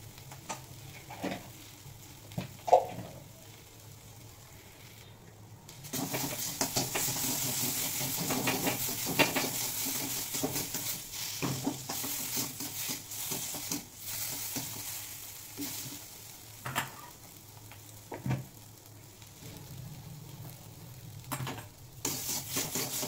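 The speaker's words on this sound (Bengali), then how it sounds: "মটরশুঁটি একটু ফ্রাই করে নিলাম" Green peas frying in a pan, a steady soft sizzle and hiss that swells louder partway through, with occasional scraping stirs and light clicks, close and alone without talk.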